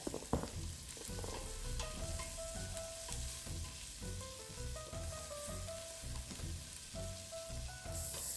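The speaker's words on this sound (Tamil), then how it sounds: "இஞ்சியையும் உள்ளியையும் சேர்த்து கொஞ்ச நேரம் வதக்குங்க." Onion, ginger and garlic sautéing in oil for a quail curry: a continuous soft sizzle with faint stirring scrapes, steady throughout and without speech.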